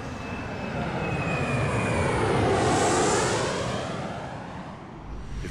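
An airplane engine roars steadily in a Kane and Lynch: Dog Days cutscene, a loud, broad drone that swells in the middle and eases slightly toward the end, with no voices.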